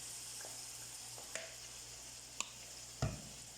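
Soy sauce hits a hot pan of Bicol-style pancit with a soft, steady sizzle, broken by a few sharp clicks and a louder clatter of a utensil near the end.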